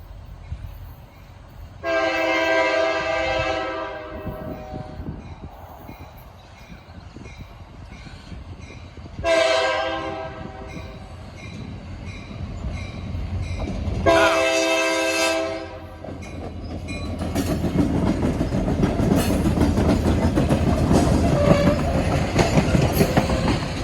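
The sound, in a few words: K3LA locomotive horn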